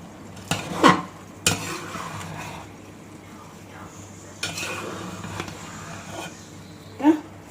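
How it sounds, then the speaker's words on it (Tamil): Chicken roast is stirred in a cooking pan, with a few sharp scrapes and clinks of a utensil against metal at uneven intervals over a quiet sizzle and a low background hum. "சும்மா கொஞ்சம் எடுத்து ஒரு கிளறி விட்டுடலாம்."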